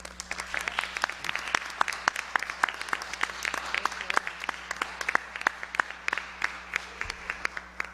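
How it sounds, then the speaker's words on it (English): Small group at a school committee meeting claps for students, a sparse, close patter of individual claps at a steady uneven rhythm over a low room hum, with no voices. "round of applause to you guys"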